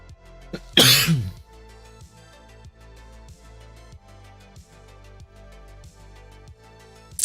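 A single loud, harsh cough bursts out near the start, followed by quieter background sound with faint regular ticks.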